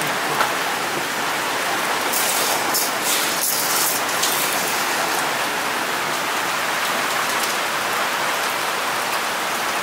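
Heavy storm rain pours steadily on a village, a dense unbroken hiss of drops on surfaces with brief brighter splashes, close and loud throughout with no voices.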